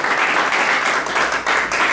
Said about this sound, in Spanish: Den un aplauso al Señor en esta hora.